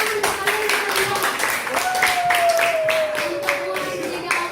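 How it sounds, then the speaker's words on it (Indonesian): Students in an Indonesian classroom clap together in a burst of quick, fairly loud applause that carries on steadily for several seconds while a voice speaks over it. "tepuk tangan untuk kalian yang terlibat"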